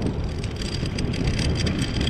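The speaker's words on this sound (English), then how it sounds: "Got a nice little breeze blowing right now." A breeze blowing across the microphone along an outdoor trail, a continuous close rumbling wind noise with no break.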